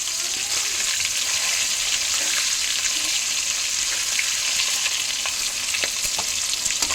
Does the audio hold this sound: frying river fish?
yes